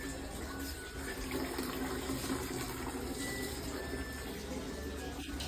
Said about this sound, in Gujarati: પહેલાં પાણીની બોટલ ભરી દઈ એટલે એ જાય એના કામ પર